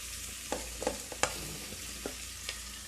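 Ginger garlic paste sizzles in a pan of onions for rajma biryani, a soft steady hiss broken by several sharp scraping clicks of stirring, fairly quiet throughout.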